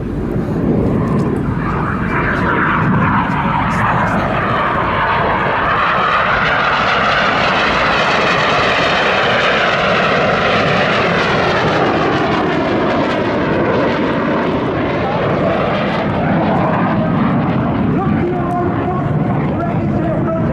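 Red Arrows jets roaring loud and continuous through the Synchro double roll at the Southport Airshow, their engine noise sweeping and shifting in pitch as the aircraft pass close overhead.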